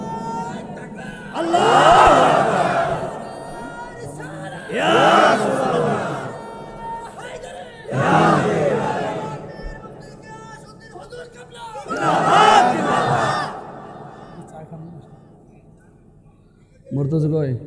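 A crowd at a religious sermon gathering chants slogans in loud, swelling waves, four big surges separated by quieter gaps, with a final burst starting at the end.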